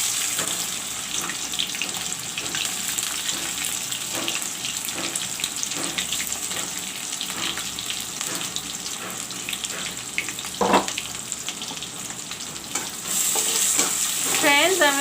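Chopped onions and bay leaves frying in oil for an egg curry, a steady loud sizzle with occasional scraping stirs, and a brief burst of running tap water near the end.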